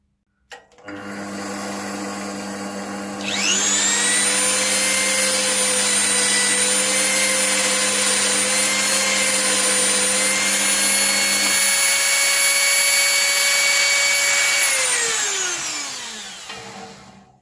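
A titanium stacking ring is chamfered on a machine, giving a loud, sustained high-pitched whine. The whine steps up in intensity after a few seconds, holds steady, then winds down and fades at the end, with no talking.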